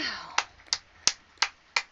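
Five sharp hand claps spaced evenly about a third of a second apart, close and crisp, at a croquet match, with a brief trailing voice at the start.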